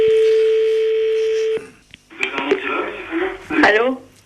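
A telephone tone sounds steadily for about a second and a half, followed by a short click and then a brief ringing or dialing burst, with a person talking on the line afterward.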